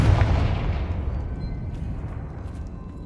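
Confringo blast spell cast in the video game Hogwarts Legacy, a loud booming burst at the start that rolls into a long rumbling decay, with no talk over it.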